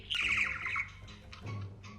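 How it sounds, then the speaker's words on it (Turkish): Birds chirp in a horror-story sound effect: a bright, fluttering burst of tweets up close, then a second shorter call, with no voices. "Kuş cıvıltıları yankılanıyordu içinde."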